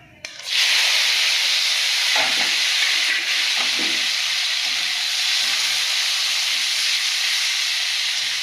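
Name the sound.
frying potatoes in oil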